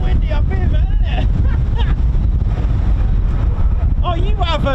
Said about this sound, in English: It's a bit windy up here